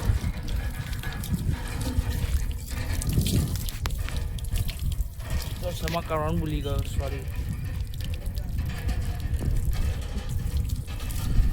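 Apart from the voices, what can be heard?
old-fashioned hand pump pouring water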